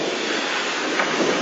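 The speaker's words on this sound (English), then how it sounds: "Setting off from Towyn Wharf Station, Douglas heads a train for Abergynolwyn under the Aberduffy Road." Narrow gauge steam train on the Talyllyn Railway leaving Towyn Wharf Station, hauled by the locomotive Douglas under a road bridge, a steady hissing, rumbling wash of steady noise with no voices.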